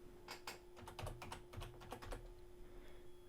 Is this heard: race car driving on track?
no